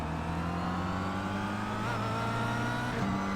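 Kia Cup race cars at Watkins Glen in a racing game, engines droning loud and steady close by with a shifting pitch as cars are overtaken.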